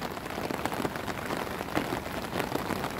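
Rain falling steadily on Zhuxi creek in Tainan's South District, a dense, even patter of drops on water and surfaces, close and continuous with no voices.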